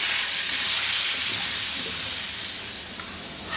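Two large potatoes cut into pieces fry in oil over high heat, giving a steady, loud, close hiss of sizzling that fades slightly toward the end.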